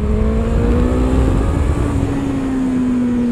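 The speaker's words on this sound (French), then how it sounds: "Tu entends le moteur?" A car engine revs hard and close while held in second gear, its steady rising-then-falling whine filling a few seconds with no voices over it.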